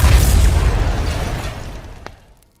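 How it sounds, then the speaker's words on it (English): A huge energy explosion destroying the Power Rangers' command center booms loud and close, a broad roaring blast that rolls and slowly fades over about two seconds with a small pop near the end, no voices. "at that very moment the energy creates a huge explosion"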